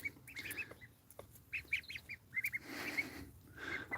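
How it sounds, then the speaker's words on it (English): A duck in a forest garden gives several short nasal calls over a few seconds, fairly faint and somewhat distant, against outdoor background noise with no one speaking. "It's a duck."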